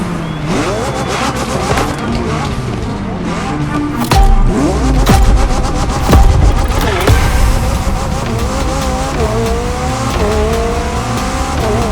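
A Triumph vehicle in The Crew Motorfest racing game, its engine roaring loudly and revving up and down through gear changes, with tire squeal and rising pitch sweeps over steady driving noise.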